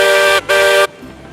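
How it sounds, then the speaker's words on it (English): A loud steam locomotive whistle in the video game Railroads Online sounds two blasts, a short one followed by a longer one, then cuts off into quiet. "I need apologies if the whistle on this locomotive is very loud."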